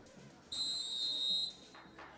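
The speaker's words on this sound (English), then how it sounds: "There's the whistle, so the race has begun." An official's whistle starts a bike race at the Dick Lane Velodrome, a single loud, steady blast lasting about a second over quiet outdoor ambience.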